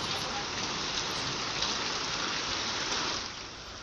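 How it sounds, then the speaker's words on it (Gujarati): Heavy monsoon downpour in Ambaji, a pilgrimage town in Banaskantha, a steady dense hiss of rain hammering surfaces with no pauses, close and loud throughout before easing slightly at the end. "બનાસકાંઠાના યાત્રાધામ અંબાજીમાં પણ ધોધમાર વરસાદ પડ્યો।"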